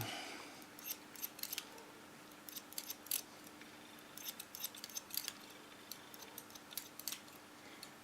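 Scissors snip short hair during a home haircut: a steady run of crisp, close metallic cuts, irregular but continuous, with a faint low hum beneath and no talking.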